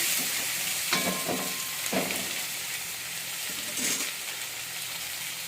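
Tomatoes tip into a hot frying pan for a Telugu spinach-and-tomato curry, giving a steady low sizzle broken by a few soft thuds and scrapes as pieces land and are stirred, with no talking.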